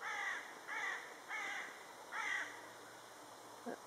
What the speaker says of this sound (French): Il y a l'air d'avoir beaucoup de corbeaux dans ce parc.